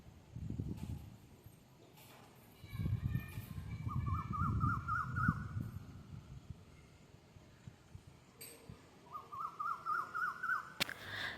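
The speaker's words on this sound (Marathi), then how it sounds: "ह्याला पावशा बोलतात आमच्या इकडं. आणि हा एवढा छान आवाज करत होता." Common hawk-cuckoo calling in the early evening, heard as two bursts of repeated, rising whistled notes at moderate distance. Low rumbling noise runs beneath the calls.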